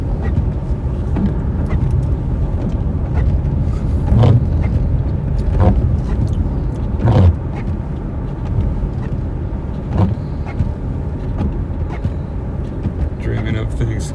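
A Subaru Crosstrek with four-wheel drive and no snow tires drives on a snowy road in heavy snow in central Minnesota. A loud, steady low rumble of road noise is heard from inside the car, with occasional dull thumps.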